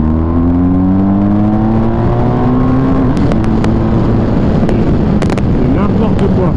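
A BMW 1250 GS Adventure motorcycle accelerates hard, its engine pitch climbing through rising tones before giving way to loud, turbulent wind roar, very close and loud throughout.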